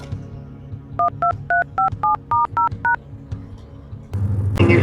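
A run of nine clear telephone keypad DTMF tones dialing a mobile number, beeping in a steady rhythm, followed by a burst of louder indistinct noise at the end.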